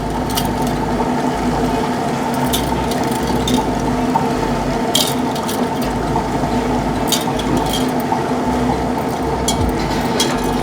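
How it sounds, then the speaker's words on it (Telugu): A mixer grinder churns soaked moong dal with water in a loud, unbroken motor whir, with rattling, clicking jar noise repeating throughout. "మనం కొంచెం కొంచెం వాటర్ చల్లుకుంటూ మెత్తగా అయ్యే వరకు కూడా మనము గ్రైండ్ చేసుకుందాము"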